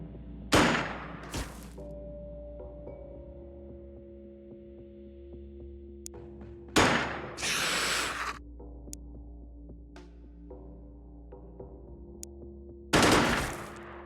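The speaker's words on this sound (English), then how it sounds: "Berserking, firing off rounds willy-nilly." A berserking soldier in the video game Xenonauts fires off rounds wildly: three loud, sharp bursts of gunfire several seconds apart over a steady electronic game hum.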